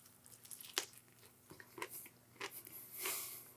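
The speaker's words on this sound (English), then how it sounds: "I need another bite." Someone bites and chews a crispy fried pork tenderloin sandwich on a pretzel bun with pickle, producing close, crunchy bites followed by a few moist chews. The sounds are brief and irregular and come with no talking.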